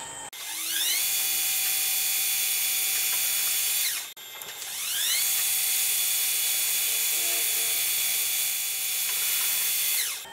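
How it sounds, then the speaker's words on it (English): A small power tool whines steadily while deburring a Stuart Turner No. 8 mill engine part, running in two long close bursts with a brief pause between. "Alright, so I'll deburr that,"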